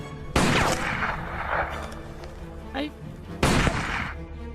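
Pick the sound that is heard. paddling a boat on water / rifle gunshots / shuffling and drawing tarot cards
rifle gunshots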